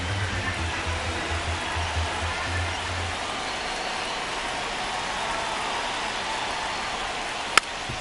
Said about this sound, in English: the field's not going to be able to hold up if the rain gets any worse than this